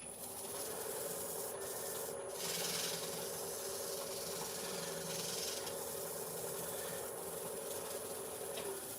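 A turned wood piece being sanded on a spinning lathe, a steady broadband rubbing hiss that runs continuously and evenly throughout, with a faint constant motor hum underneath and no talking.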